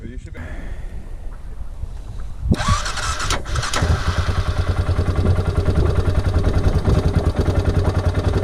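A motorcycle engine turns over on a jump starter pack and catches, settling into a loud, steady, rapid idle after a brief cranking burst; an outdoor outback setting with some background voices early on.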